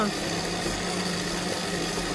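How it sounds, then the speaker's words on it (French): A food processor mixing sugar and salt whirs loudly and steadily, a constant motor drone filling the whole moment without pauses. "On va passer un petit coup au robot."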